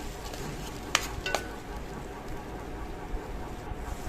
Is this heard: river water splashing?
no